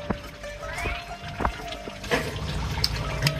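Duck meat simmers in a pot of water at a village winter picnic, giving a steady bubbling and liquid churn with a few sharper splashes and faint background voices.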